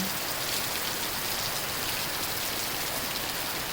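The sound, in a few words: rain falling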